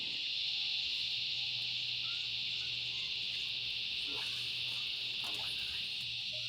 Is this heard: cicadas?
yes